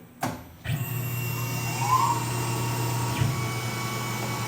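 A Tormach CNC mill drills holes, its spindle whining steadily at close range after a couple of sharp clunks at the start, with a brief rising tone midway.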